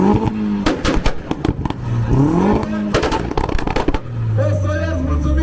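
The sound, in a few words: car exhaust revving at car show exhaust competition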